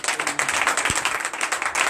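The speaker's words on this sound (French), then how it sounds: "Nous donnons l'acclamation à notre Seigneur." Congregation clapping during a Tuesday morning prayer service in Benin, a short burst of steady applause filling the room, fairly close and continuous.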